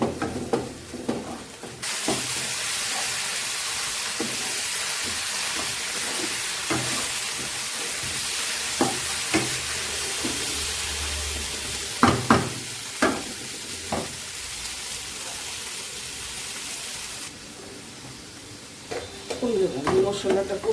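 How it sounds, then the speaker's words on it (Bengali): Spice paste with a splash of milk stir-frying for Bengali shukto, a dense hissing sizzle under repeated spatula scrapes and knocks, with a voice talking over the cooking at points. "মশলাটা ভালো করে কষে নেব।"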